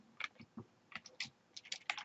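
Keyboard keys typing out a short word in an image editor's text tool, with irregular quick clusters of crisp clicks that sound close and fairly quiet, and no voice.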